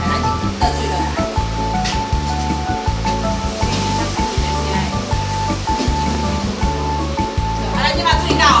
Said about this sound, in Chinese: 来咱就倒水落来